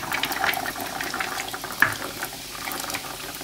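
Flour-coated peanuts going into hot oil, giving a low steady sizzle and bubbling with a single sharper splash partway through; fairly faint, with no talking.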